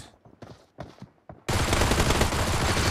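Heavy continuous gunfire from a video game tournament match, with pistol shots among it, bursts in loud and dense after a few sparse, fainter shots and quiet gaps.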